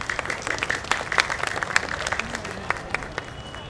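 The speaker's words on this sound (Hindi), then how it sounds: "एक बार गड़गड़ाहट होनी चाहिए तालियों की।" A festival crowd claps at the Shri Krishna Mahotsav Dahi Handi celebration on Miller Ground, Patna: dense, steady applause with sharp individual claps rising through a broad wash, moderately distant and even throughout.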